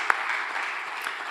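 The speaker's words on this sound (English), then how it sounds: "please, one more round of applause" A symposium audience at a municipal governance event claps in a brief, moderate round of applause, a continuous patter of hands with one sharper clap near the start.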